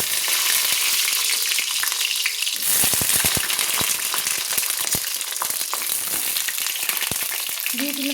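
Cut eggplant pieces dropped into hot oil, a loud, steady crackling sizzle that bursts up as they hit the pan and keeps popping, with occasional stirring clinks.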